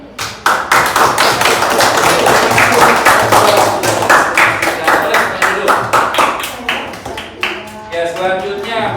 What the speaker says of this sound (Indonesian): Sekali lagi kita harus tepuk tangan.